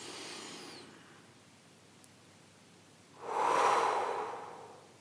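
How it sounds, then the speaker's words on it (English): A quick inhale through the nose during a guided sleep meditation, a soft airy rush that swells near and clear for about two seconds, following a fainter breath earlier and a quiet gap. "We want to fill the lungs a bit more quickly."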